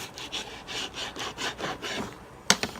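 Knife slicing fat from a raw chicken breast on a cutting board, heard as a series of rhythmic scraping strokes, close and moderately loud, ending with a sharp tap.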